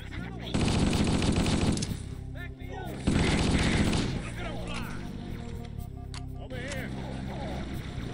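Rapid automatic gunfire in Halo Custom Edition comes in two loud sustained bursts, with quieter game noise and a voice in between.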